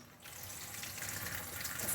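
Tap water runs steadily from a kitchen faucet onto sausage being rinsed, a continuous close gushing splash with no talk.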